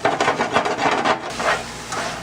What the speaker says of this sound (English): while your sausage is cooking up